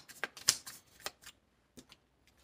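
Close, quiet tarot card shuffling in a few short papery bursts that thin out into sparse soft taps near the end, with no voices.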